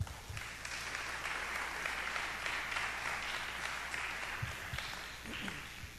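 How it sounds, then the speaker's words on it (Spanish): An audience at a panel talk on crime fiction applauds a speaker with steady, even clapping that runs throughout, heard faint and somewhat distant. "les pido que lo recibamos con un aplauso"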